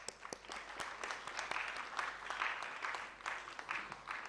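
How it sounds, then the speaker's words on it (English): Audience applause at the IMM 45th anniversary conference honouring a mentor: a fairly faint, dense wash of many hands clapping, steady for several seconds with a few sharper claps standing out. "I think a big applause for him as well"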